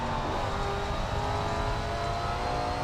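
Super late model race car engine from the SRX video game at Slinger, droning steadily with a throttle held partly back, a continuous loud whirring roar with no pauses and no talk.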